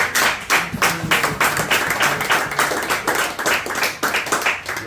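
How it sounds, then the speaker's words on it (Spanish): Applause from a church congregation fills the space for the full stretch: dense, steady clapping with rhythmic surges, loud and close, with no voices heard over it. "Denle un fuerte aplauso a Cristo."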